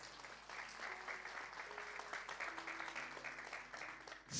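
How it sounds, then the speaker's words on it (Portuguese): A church congregation applauds during a Portuguese-language service, a soft, distant wash of steady clapping with faint voices and a low hum, lasting a few seconds. "Pode aplaudir o Senhor."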